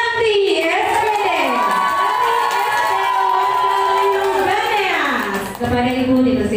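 A crowd of schoolchildren cheers and shouts loudly at a school closing event and talk show, a steady, dense roar of excited voices that lasts throughout.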